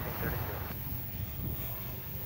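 An American Airlines Airbus A321neo arriving on a runway at DFW Airport gives off a steady, moderately loud jet engine roar with some wind noise, and a voice talks faintly underneath.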